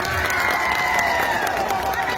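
A crowd at a political rally bursts into loud applause, with dense clapping and some cheering washing together close and full for a couple of seconds.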